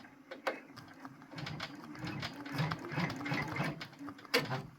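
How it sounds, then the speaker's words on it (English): A Brother PR1055X embroidery machine stitches an appliqué monogram, its needle chattering in a fast, steady mechanical rhythm up close, with a few sharper clicks and no talking. "go ahead and have it stitch the rest of that."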